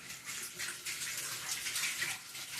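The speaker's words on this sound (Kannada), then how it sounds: "ಇವಾಗ ಸಿಂಕ್ ತೊಳಿತಾ ಇದ್ದಾಳೆ." Water runs steadily from a tap as a kitchen sink is washed at home, a continuous close hiss and splash with no voices.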